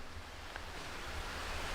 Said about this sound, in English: We got a little stream right next to us here